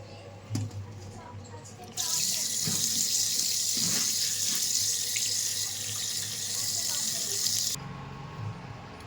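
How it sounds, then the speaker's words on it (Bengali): Rice is rinsed in a basket under a running tap; the water gushes loudly and steadily for several seconds with some squishing of grains, starting and stopping abruptly, with faint handling sounds before and after. "তো চলুন এখন চালটা ধুয়ে নিই।"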